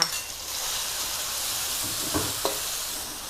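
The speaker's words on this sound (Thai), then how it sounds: "ผัดพริกกระเทียมให้หอมฉุยเลยจ้า" Chili and garlic hiss and crackle in hot oil in a wok, a steady close sizzle broken by two brief scraping stirs toward the end, with no voices.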